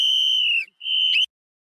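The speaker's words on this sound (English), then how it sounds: "they have to have their rape whistle" A shrill protest whistle at a No Kings rally gives two loud, close blasts, the second short and wavering before cutting off.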